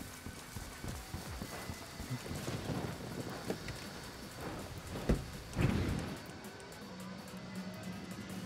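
Rain patters in the video game Ghost Recon Wildlands, a steady moderate wash with a few low rumbles and thumps that suggest distant thunder, no talking over it.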